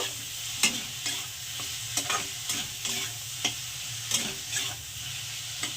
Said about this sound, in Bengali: এবার মশলাটাকে আমি একটু ভালো করে কষিয়ে নেব